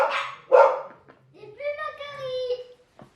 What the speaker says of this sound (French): C'est qui a devant la porte? Pourquoi elle aboie, Niki?